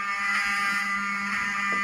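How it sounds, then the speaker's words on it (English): An indoor building fire alarm rings loud and steady with a continuous harsh electronic tone that does not break, heard alone with no voices. "the fire alarm goes off"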